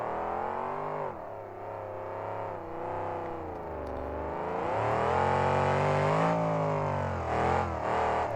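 A monster truck engine roars and revs hard during a freestyle run at the KORR Monsters finals, with the truck walked sideways across the floor on its rear bumper, loud and continuous with rising and falling pitch.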